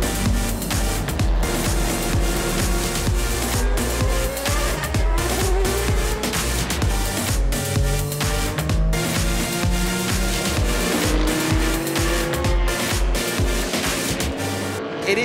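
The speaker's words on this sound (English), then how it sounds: "There are engines revving at the moment because Johnny has gone across the way there for those Group 2 sports cars" Historic Group 2 sports car engines rev loudly and continuously at a race meeting, with layered engine tones rising and falling, several cars running together at close range.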